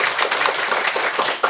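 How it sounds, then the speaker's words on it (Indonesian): A school class clapping together, a dense, brisk burst of many hands at close range, loud and steady throughout the short span. "kita berikan tepuk tangan untuk kalian."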